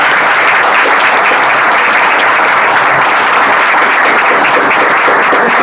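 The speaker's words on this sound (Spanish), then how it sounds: "un gran aplauso." Guests at a wedding ceremony in Santa Rosa break into a big round of applause, a loud, dense, continuous wash of clapping that fills the room from start to finish.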